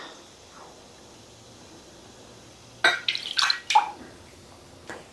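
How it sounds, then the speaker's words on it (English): Hands are washed under a running tap, with a few short bursts of splashing water that start mid-way and stop and start again, over a quiet background. "let me go wash my hands really quick"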